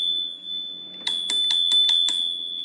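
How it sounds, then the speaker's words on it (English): A handlebar bell on a Caroma E68 electric scooter, a 500-watt, 20 mph model with hydraulic disc brakes, rings six quick, bright strikes up close, evenly spaced, over a faint steady background. "Right above that, you do have a bell."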